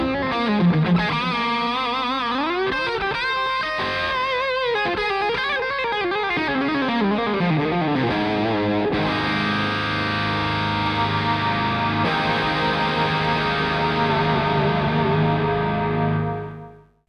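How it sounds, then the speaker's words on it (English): Electric guitar through ToneX and XSonic AirStep effects, a melodic phrase washed in compression, chorus, delay and reverb, then sustained ringing chords that swell and cut off abruptly. "start with a dry signal, add some compression, throw some chorus, add delays, and finally some reverb"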